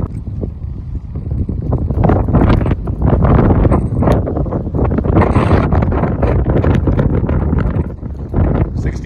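Strong right-to-left crosswind of 20–25 mph gusts across an open football field, roaring steadily into the microphone as loud, continuous buffeting with no break.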